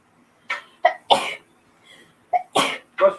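Several short bursts, sharp and explosive like sneezes or coughs, come in a loose cluster close to the microphone, separated by brief silences, in a home kitchen while burgers are cooking.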